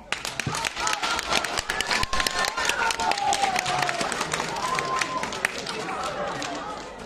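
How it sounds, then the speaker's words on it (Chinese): Dense, sustained audience applause at a Deyunshe xiangsheng (crosstalk) show at Guangdelou theatre, with sharp overlapping claps throughout and a voice heard over the clapping. "谢谢大家伙儿热情的掌声"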